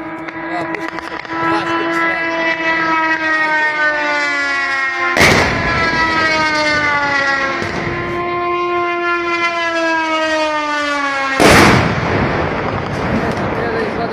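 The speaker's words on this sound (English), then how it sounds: "Russian Garan UAVs are diving one after another in an epic manner, striking military targets in Ukraine" Russian Garan drones diving onto military targets in Ukraine very near the camera: a loud rising whine of incoming drones with two sharp, heavy explosion blasts, one near the middle and one near the end, with a faint voice underneath.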